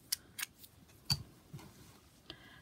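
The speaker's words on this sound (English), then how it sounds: "all you're going to do is just cut your yarn" Scissors snip through crochet yarn in a few sharp, separate clicks spread over a couple of seconds, close and fairly quiet, with no talking.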